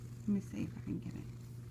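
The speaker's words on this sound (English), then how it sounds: "She's purring." A feral cat purrs softly close by indoors, a low steady rumble, with a quiet voice speaking briefly over it.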